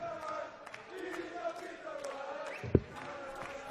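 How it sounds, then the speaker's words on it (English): A darts crowd at the Austrian Darts Championship sings together in a sustained, distant chorus, with a steady arena murmur and one sharp knock partway through. "The crowd start to sing for their favourites like MVG, who's coming tomorrow"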